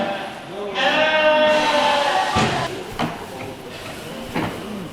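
Long-legged lambs on a farm give one clear, wavering bleat near the start, followed by a few scattered knocks and shuffling thuds at close range.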